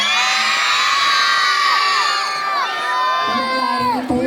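A pageant audience at a barangay event in Malabon City cheers and shouts, with many voices whooping and yelling together loudly in a sustained crowd roar that fades slightly toward the end.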